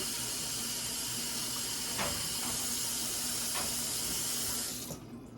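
Tap water runs steadily as freshly caught bluegill are rinsed off, a close, even hissing gush with a few faint clicks before the flow cuts off near the end.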